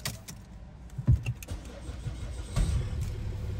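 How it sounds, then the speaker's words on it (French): A Kia car's engine cranks and starts with a small backfire pop, a short sharp burst near the start followed by the engine catching and idling on, heard close by. "elle a foutu un coup de fusil, t'as vu le démarrage?"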